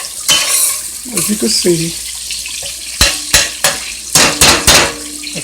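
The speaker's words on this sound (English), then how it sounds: "I'm getting the bacon all fried." Bacon fries in a pan with a soft sizzle, broken by a utensil stirring and a run of sharp clanks against the pan near the end, and someone talking briefly over it.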